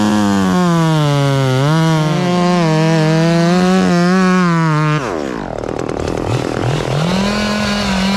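A chainsaw cuts a hung tree limb up in a tree. The motor whines loud and close, holding a steady high rev under load, then drops and surges again as the cut changes.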